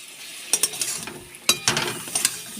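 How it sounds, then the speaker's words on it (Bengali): Ginger and cumin paste fries with magur fish, a sizzle broken by sharp scraping stirs of a spatula against the pan, several quick clicks and knocks close up, with no talk. "ভালো করে কষিয়ে নেব"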